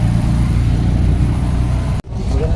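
An auto rickshaw carrying seven riders in Ratnagiri, its engine giving a loud, steady, rough drone that cuts out briefly near the end and then resumes.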